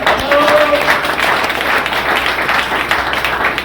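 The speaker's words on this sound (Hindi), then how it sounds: "ताली जोरदार वाली बजाइए सर।" Loud, dense audience applause at a training seminar in Karera, Madhya Pradesh, with many hands clapping continuously for several seconds and no voices over it.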